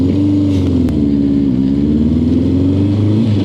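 A BMW R65 or Suzuki Katana motorcycle engine holds a fast, slightly high idle, a loud, close, steady hum with a constant pulsing tone and no talking.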